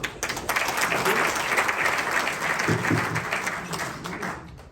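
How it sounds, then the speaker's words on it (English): At a corporate technology event, the audience welcomes demo presenters with warm applause, a full burst of clapping that swells and then tapers off, with faint voices murmuring underneath near the end. "let's give them a warm welcome applause."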